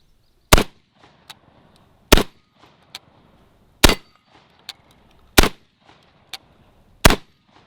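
A Hatsan Escort DF12 shotgun fired outdoors, five loud sharp reports spaced about a second and a half apart, each followed by faint clinks and small knocks, with no voices.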